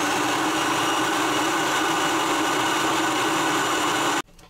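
An insulation blowing machine's blower motor running steadily alone, a loud constant whirring roar with even, unchanging tone that cuts off abruptly near the end.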